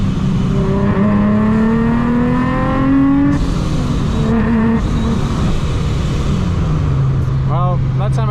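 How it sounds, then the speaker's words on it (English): A motorized bicycle fitted with a Soho A2A cog engine kit revs under partial throttle, its small two-stroke whine rising and falling in pitch and cutting out, loud and close against steady wind and road noise. "that time I gave it quarter throttle and it wants to cut"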